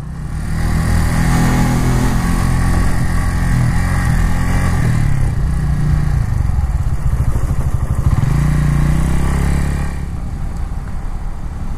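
A Suzuki TU250X motorcycle engine drones loud and close throughout the ride, with a shift in pitch around the middle and a slight drop near the end; no one speaks.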